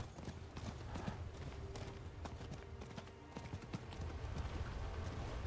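Horse hooves clip-clop in the game Diablo IV, a steady run of close, fairly loud hoofbeats over a busy game soundscape, with no talk.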